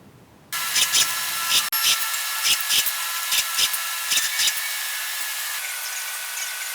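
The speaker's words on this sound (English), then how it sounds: "all I'm doing is putting in a countersinking tool" A countersinking tool on a Bridgeport mill deburrs flat metal plates. It whines steadily from a sudden start, broken by repeated short bursts of cutting noise as the edges are taken off, and runs on alone to the end.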